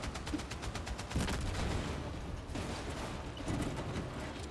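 Dense, sustained gunfire in Battlefield 6, rapid automatic bursts crackling almost without pause and loud throughout, with occasional heavier blasts mixed in.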